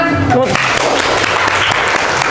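Audience applause breaks out during an informatics talk on computational thinking, a loud, dense wash of clapping that starts abruptly after a brief vocal sound and carries steadily to the end.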